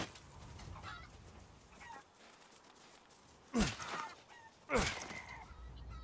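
Chickens in Resident Evil Village give two sharp, loud clucks or squawks a second apart, rising out of quiet ambient game noise.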